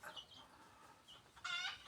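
A female decoy jungle fowl hen clucks in a few short, soft bursts, with a brighter cackling run near the end, heard fairly close and quiet with no talking.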